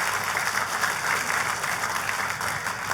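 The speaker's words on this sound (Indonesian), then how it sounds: "Tepuk tangan yang paling meriah buat Tuhan kita." A church congregation claps together in a dense, sustained wash of applause, steady and fairly loud from start to finish.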